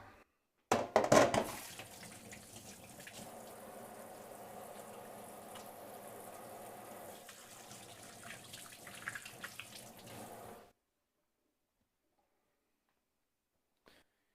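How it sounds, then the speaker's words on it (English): Tap water runs steadily into a kitchen sink for hand washing during cooking, starting with a louder splash and flowing evenly for about ten seconds before cutting off to silence. "I'm going to wash my hands"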